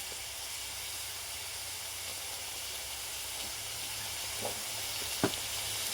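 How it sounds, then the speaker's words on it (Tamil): Ground masala with its grinding water and a little turmeric sautés in a pan for Odisha-style prawn thokku, giving a quiet, steady sizzle with a couple of faint utensil taps near the end. "இப்போ இந்த மசாலா வந்து நல்லா வதங்கணும்"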